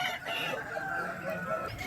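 A fighting-breed rooster at a cockerel market clucks and calls in rapid, nasal bursts, close and fairly loud over a busy outdoor background.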